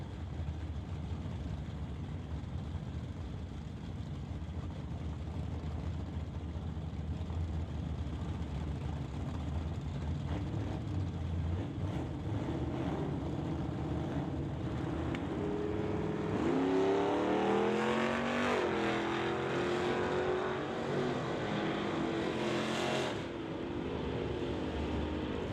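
Drag race at a door-car event pitting a Ford Mustang against a 1967 Chevy Camaro, engines droning steadily then swelling into a loud rising rev and roar midway before easing off, no voices.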